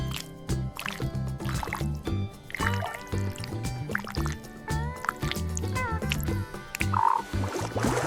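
Tree frogs croak in a steady, rhythmic chorus, their repeated calls layered over one another, with a few watery drips in the background.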